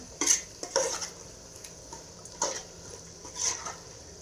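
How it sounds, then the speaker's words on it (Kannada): Biryani masala is stirred in a pan after tomato is added, with a few separate scraping and clinking strokes of a spoon against the pot over a faint sizzle. No voices. "ಟೊಮೊಟೊ ಹಾಕಾದ್ಮೇಲೆ ಸ್ವಲ್ಪ ಮಿಕ್ಸ್ ಮಾಡ್ಕೊಳ್ಳೋಣ"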